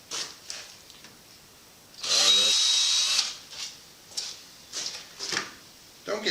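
A power drill pre-drills a hole near the end of a treated lumber log siding board on a man cave garage: one loud, whining burst of about a second, with someone talking briefly before and after.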